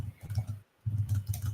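Rapid, dense keystrokes on a computer keyboard right next to the microphone, two quick bursts of clattering typing separated by a short pause.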